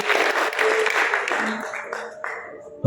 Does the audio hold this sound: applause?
yes